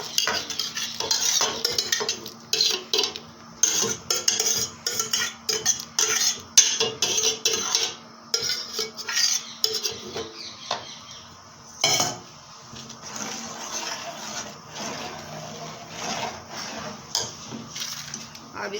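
Spoon stirring carrots into a pot of chicken macaroni soup, with repeated clinking and scraping against the metal pot, steady and close, and a faint sizzle underneath.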